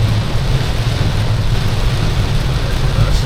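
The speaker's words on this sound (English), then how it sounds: "Look like this is nationwide rain" Heavy rain falls steadily on the island of Grenada, a dense, constant roar with a low rumbling undertone throughout, no distinct breaks or voices.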